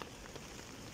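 Faint, soft patter of rain on a surface, a brief quiet stretch of steady drizzle with no voices.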